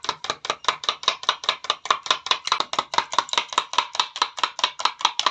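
Eggs with a pinch of salt are beaten by hand in a bowl until frothy, a fast, even stream of close rhythmic beats, about five per second, with no talking.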